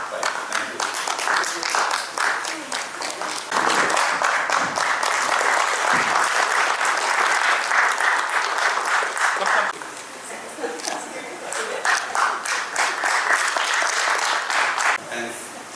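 Sustained audience applause at a Toastmasters club's 500th milestone meeting, a dense wash of many hands clapping that continues for the full span with a brief dip near the middle, loud and close with no clear talk over it.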